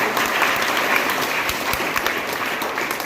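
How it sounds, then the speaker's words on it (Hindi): Loud, sustained applause from a school audience at a Gandhi Jayanti 2024 quiz competition, greeting a correct answer; dense steady clapping fills the whole stretch with no talk over it. "बिल्कुल सही जवाब, जोरदार तालियां।"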